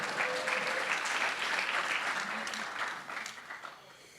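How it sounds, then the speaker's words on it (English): Audience applause at a community presentation on wildfire preparedness in the South Willamette Valley: a steady, dense patter of many hands clapping that thins and fades slightly toward the end, with no talking over it. "Applause now."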